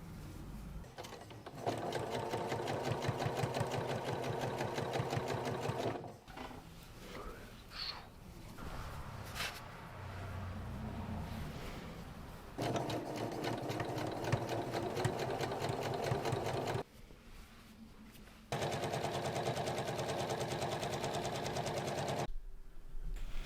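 A hand-me-down sewing machine stitching darts in a dress, whirring in steady rapid runs of stitching, close and loud, with short quiet pauses between three long runs.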